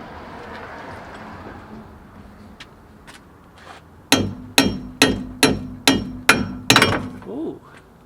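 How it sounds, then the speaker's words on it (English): A hammer strikes the strut of a Nissan Skyline during a coilover install, about seven sharp metallic blows in a quick steady rhythm after a few softer taps, loud and close. "Let's see if we can hit it with a hammer."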